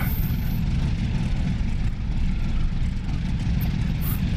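F4U-1 Corsair radial engine warming up in DCS, a loud, steady propeller drone and rumble holding constant throughout with no pauses.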